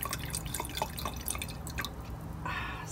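Wine runs through a wine aerator into a glass, a steady close trickle and dripping that swells into a fuller gurgling pour near the end.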